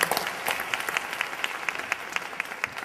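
Audience applause for a conference panel and its moderator, a dense wash of many hands clapping steadily at moderate distance, fairly even throughout with no talk over it.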